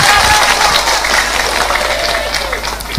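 A crowd applauds at a religious gathering for the Prophet's birthday, loud and dense clapping that fills the whole moment, with voices mixed in underneath.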